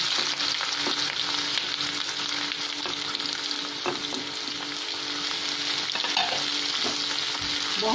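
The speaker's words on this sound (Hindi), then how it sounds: "इसमें हम प्याज डालेंगे।" Chopped onion sizzles loudly in hot oil in a kadai while a spoon stirs it, adding scraping strokes over the continuous frying hiss; no one speaks.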